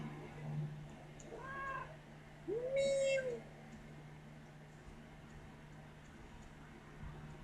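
A pet cat named Houdini gives a single clear, rising-then-falling meow, close by, against a quiet room with a low steady hum and a few softer sounds beforehand.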